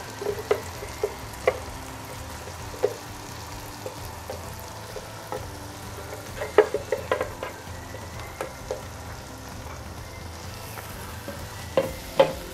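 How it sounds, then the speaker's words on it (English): A pepper mix sizzles and is stirred in a pan with onions, ginger and garlic paste for a mackerel dish. Steady frying hiss runs throughout, with intermittent scraping and clinking from the stirring utensil. No voices. "So I'm adding my pepper mix in here."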